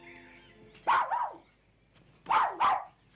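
A dog, Bobby, a small terrier, barks in two quick pairs of sharp, close yaps with a short pause between them, loud against a quiet room.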